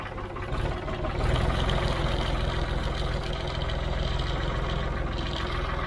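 An old Ford 3000 tractor runs on its first start in over ten years, its diesel engine chugging close by with a low rumble that rises as it revs and then settles into a rough, steady idle.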